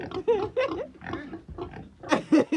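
Pigs in a pig pen oink and grunt in a rapid, loud series of squealing, nasal calls, close to the microphone, with bursts growing sharper toward the end.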